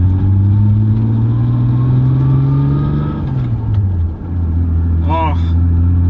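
A 200,000-mile Toyota Supra with a clutch-type differential cruises along a road, its engine giving a steady, loud hum with slowly shifting tones and a dip partway through; a brief voice is heard near the end.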